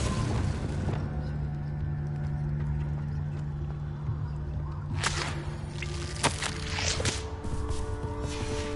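A Hogwarts Legacy fire spell blast bursts out as a few sharp whooshing cracks and booms in the back half, over a steady low hum and quieter clattering.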